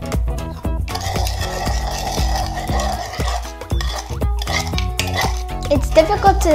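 A spoon clinks and scrapes around a container while stirring a mixture of borax, sugar and water, with rhythmic close-up taps and rattles repeating for several seconds.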